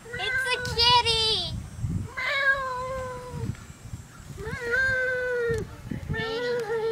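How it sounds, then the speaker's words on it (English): A cat gives several loud, drawn-out meows and wailing cries in close succession, near and clear, while someone speaks softly between them. "It's a kitty."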